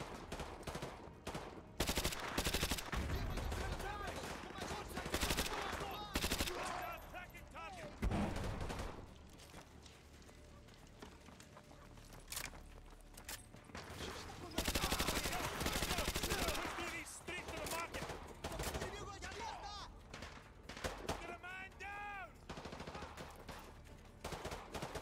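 Gunfire in Call of Duty Modern Warfare 2 Remastered, a veteran-difficulty Hornet's Nest mission: repeated loud bursts of rifle and automatic fire in clusters, with gaps between volleys and shouted voices under the shooting.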